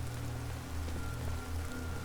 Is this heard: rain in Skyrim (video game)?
yes